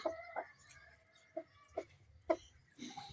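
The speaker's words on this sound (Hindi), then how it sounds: "जो कल दूसरा वाला मुर्गा लाए थे वो ये रहा" A rooster clucks in short, sharp bursts, about five or six separated by pauses, close by and fairly loud over a quiet background.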